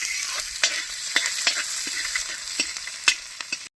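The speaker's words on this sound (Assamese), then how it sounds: "এতিয়া বৰ্তমান পিঁয়াজ দিলোঁ।" Onions frying in oil with dried chillies, a steady bright sizzle broken by repeated scraping clicks as the pan is stirred, close up, ending abruptly.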